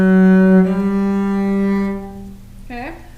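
Cello plays a slow series of bowed notes, starting on a sustained open string and then stepping up through fingered notes, each note clear and close with rich overtones.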